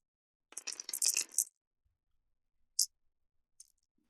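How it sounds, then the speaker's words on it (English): Dice rolled for a board game, a short clattering tumble of small hard pieces on a table followed by two faint separate clicks, close and quiet in an otherwise silent room. "Did we roll the dice?"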